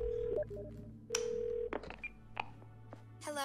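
A phone in a video game dials out. Several short electronic keypad tones ring out one after another, spaced irregularly, each clear and distinct against a quiet background hum.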